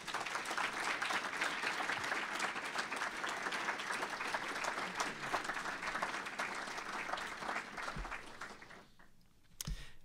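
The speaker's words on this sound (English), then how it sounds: "if you would join me in a round of applause for Elaine Levine" A lecture audience gives Elaine Levine sustained applause, dense clapping from a full room that holds steady for several seconds before tapering off near the end.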